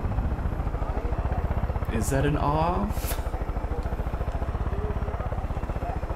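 A helicopter in the video game Far Cry 5 gives a steady, loud, rapid rotor chop that runs throughout, with someone talking over it.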